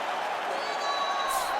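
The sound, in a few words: crowd cheering in UFC 5 video game fight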